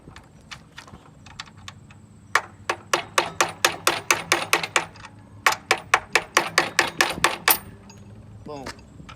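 A quick series of sharp metallic knocks as hardware pieces are knocked out of a Camaro SS, about two bursts of a dozen rapid taps each, loud and close, with a short pause between bursts.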